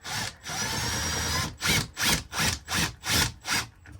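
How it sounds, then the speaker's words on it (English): Power drill driving small screws into a mount, a long continuous whir followed by five short rhythmic bursts, close and loud with no talking. "we're going to see if we can jam these little tiny screws in there just to give it some more grip"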